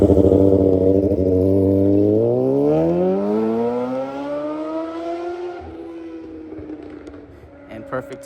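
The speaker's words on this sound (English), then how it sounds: "you're gonna hear a crotch rocket go by" A sport motorcycle passes by on a street during an outdoor walk, its loud harmonic engine whine sweeping downward in pitch as it goes past, then fading into the distance over several seconds.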